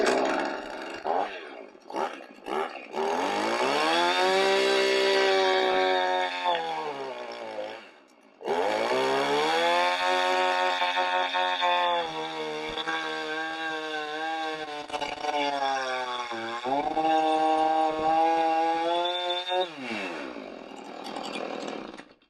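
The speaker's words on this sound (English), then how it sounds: "using a chainsaw, we'll make that first cut" A chainsaw roars continuously while cutting a log, its pitch rising and falling as the blade bites, with a brief drop-off partway through.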